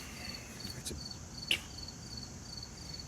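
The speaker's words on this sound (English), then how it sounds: "These bugs are getting wild again, so I don't know how long I'm going to be out here." Insects, likely crickets, chirping outdoors at night: a faint, steady high-pitched trill running throughout, with one brief louder click in the middle.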